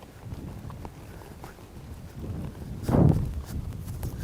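A horse lopes up and down hills, its hoofbeats a faint, steady clip-clop under light wind noise, with one louder thud of hooves near the end.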